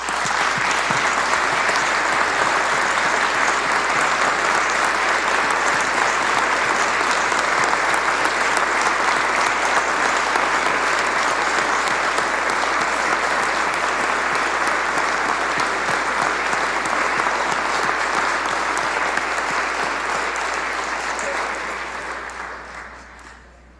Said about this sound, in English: we thank you and we applaud you.